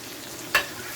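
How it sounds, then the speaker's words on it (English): Curry frying in a pan for a Jamaican-style saltfish cook-up, a steady soft sizzle with one brief sharp scrape of stirring, close and alone. "we're going to continue frying this for another minute or so"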